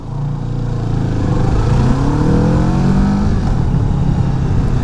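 A Kawasaki Vulcan S motorcycle with an Arrow performance exhaust revs continuously and loudly, its pitch rising and falling in long sweeping runs, with no talking.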